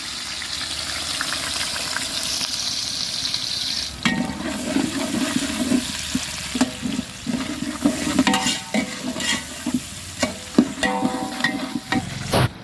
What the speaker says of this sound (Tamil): வெங்காயம் நல்லா கோல்டன் ப்ரௌன் ஆகிற வரைக்கும் வெயிட் பண்ணிக்கலாம்